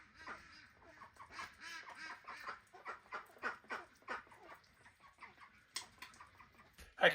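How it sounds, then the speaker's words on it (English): Ducks quack repeatedly in a busy farmyard coop, a rapid, uneven series of close, nasal calls with hen-like clucks mixed in and a louder squawk at the very end. "Come on, ducks! Get out there with the rest of the fellas."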